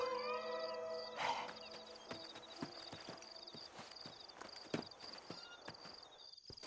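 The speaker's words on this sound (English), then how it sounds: "Horses are over here!" Horse hooves clip-clop in Red Dead Redemption, a steady run of distinct hoofbeats under a faint sustained tone, fairly quiet overall.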